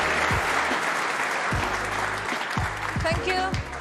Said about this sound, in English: Getting a good hand from this crowd.